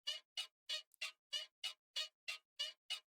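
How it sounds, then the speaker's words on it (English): Creaking bed sampled for a beat: eleven short, evenly spaced squeaks in a steady rhythm, fairly quiet with silence between each one. "this sound at the beginning here, this bed creak sound"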